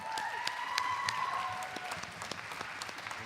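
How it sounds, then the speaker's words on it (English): A spring school orchestra concert audience applauds a 9th-grade violinist's solo, with scattered, fairly distant claps and a lingering sustained tone fading early, the clapping thinning toward the end. "Give her a round of applause for that solo."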